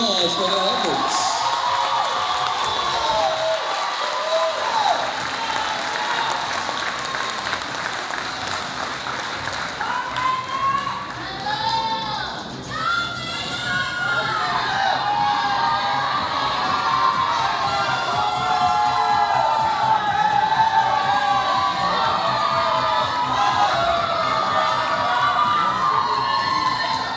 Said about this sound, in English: Let's give them a huge round of applause for their efforts.